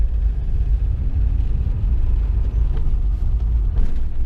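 Steady low engine and road rumble from inside a Subaru Forester driving after a clutch and exhaust repair, continuous and fairly loud with faint rattles, no talking.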